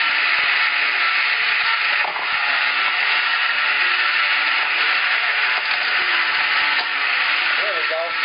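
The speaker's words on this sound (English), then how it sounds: "Every time you put rock salt in, you can hear that redistribution going on." Rock salt shifts and grinds continuously inside an ice cream maker packed with ice, a dense steady rattling hiss at close range, with faint talk at the end.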